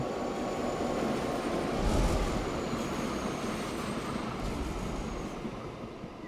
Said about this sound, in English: So like when the train comes in, it's meant to just be scenic as it rides through